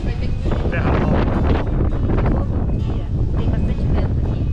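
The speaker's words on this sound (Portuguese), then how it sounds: "Tem bastante vento aqui. Ventando bastante" Strong wind buffets the microphone at the Miolo winery in the São Francisco valley in Bahia, a loud, continuous roar that rises and falls in gusts throughout, covering any other sound.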